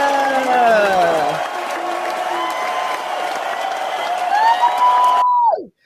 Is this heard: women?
yes